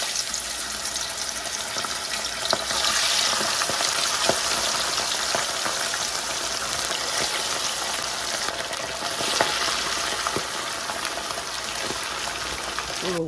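Pompano fish frying in a pan of hot oil, a loud, continuous close sizzle with occasional pops and crackles throughout.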